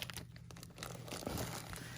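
A plastic bag holding fiber fill stuffing for a crochet doll is handled, producing soft, close crinkling and rustling that continues through the moment with no talking.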